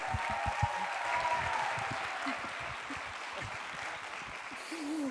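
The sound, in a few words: audience clapping hands to introduce the show's director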